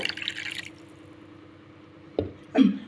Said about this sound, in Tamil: இப்போ இந்த தண்ணியை செடிக்கு ஊற்றுங்க